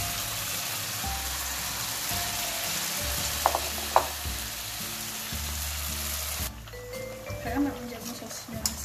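Onion and sausage fry in hot oil for corn fritters with sausage, a steady, close, crackling sizzle with a few brief utensil clicks partway through before the hiss thins out.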